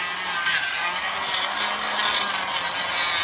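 An angle grinder works steadily on the inner lips of a Nissan 300ZX's fenders during fender rolling, a continuous loud, bright abrasive whine with no pauses, close to the listener.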